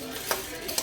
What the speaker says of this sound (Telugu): చూడండి, మిరపకాయలు వేయించుకుంటా.